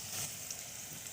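Hot oil sizzles steadily as it is poured into mango kasundi pickle, a close, continuous hiss with no talking.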